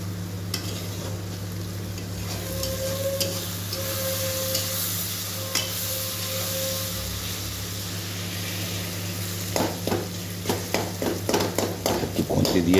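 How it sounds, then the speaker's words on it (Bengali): A metal spatula presses and stirs tomatoes frying in oil with spices in a pan, a soft continuous sizzle with a steady background hum, breaking near the end into a run of quick, regular scraping taps. "একটু খুন্তি দিয়ে চেপে নিচ্ছি টমেটোগুলোকে।"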